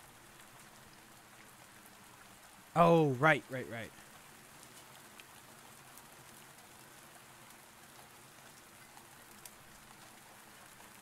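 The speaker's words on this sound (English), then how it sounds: "It's raining." Soft, steady rainfall in the horror video game Reveil goes on as a faint hiss in the background. Someone speaks briefly over it.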